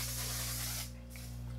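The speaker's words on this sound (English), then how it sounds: "I love this mattifying setting spray." Mattifying setting spray is misted onto a face in a short, close hissing burst that stops abruptly, followed by a faint softer spritz over a low steady hum.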